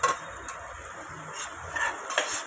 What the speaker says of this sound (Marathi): आता आपण हलवून घेऊया.